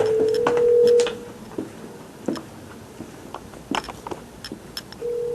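Emergency phone in a pedestrian tunnel ringing after its alarm button is pressed, a steady electronic ring tone at the start and again at the end, with footsteps and clatter echoing between.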